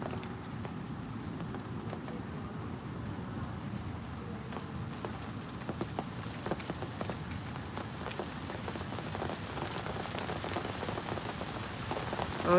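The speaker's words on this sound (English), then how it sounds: "the rain sounds so amazing" Steady rain falling and pattering on a surface, a constant hiss dotted with fine droplet ticks that build slightly toward the end.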